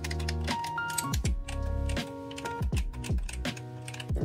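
Clicky face buttons on a Logitech F710 gamepad are pressed repeatedly, giving sharp, close plastic clicks in quick irregular runs with no talking.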